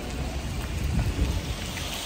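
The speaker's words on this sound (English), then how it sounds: "About to enter into this rain." Heavy, steady rain pours down close by in South Africa, a constant hiss with low rumbling underneath and no voices.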